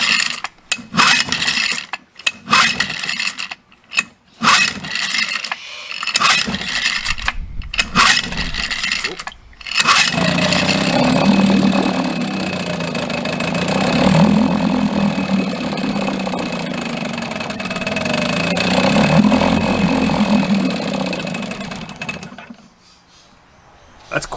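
A Zodiac Classic MK2 inflatable boat outboard is pulled over in several sharp cranks, catches and settles into a steady close running drone before cutting out near the end.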